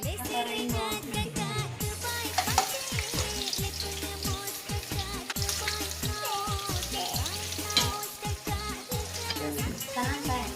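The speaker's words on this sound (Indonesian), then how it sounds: "Oke, taruhin bawang putih." Garlic fries in a pan with a soft, continuous sizzle and scattered crackling pops, low and close, while a voice talks intermittently over it.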